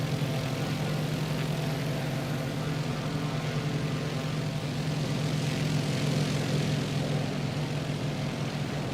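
A propeller plane's engine drones steadily and evenly in Microsoft Flight Simulator, a loud continuous hum with no talk over it.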